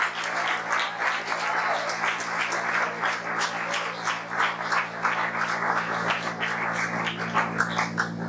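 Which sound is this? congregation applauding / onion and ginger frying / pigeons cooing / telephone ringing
congregation applauding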